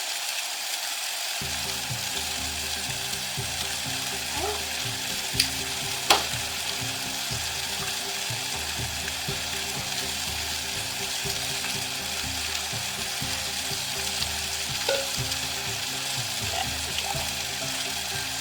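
Garlic fries in a stew pot for an Irish stew, a steady close sizzle and crackle that starts abruptly and holds evenly, with a couple of sharp clinks partway through.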